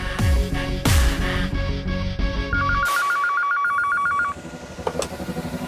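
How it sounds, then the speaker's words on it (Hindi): A telephone rings with a steady warbling electronic trill for a couple of seconds, clear and close, after some louder dramatic sounds, with quiet background afterward. "हेलो मारिया, तुमने इस नंबर पे फोन क्यों किया?"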